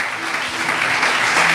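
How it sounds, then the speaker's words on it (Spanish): Steady congregational applause fills a church service, a dense, even wash of clapping that holds throughout and swells slightly toward the end. "denle el aplauso si lo quiere hacer"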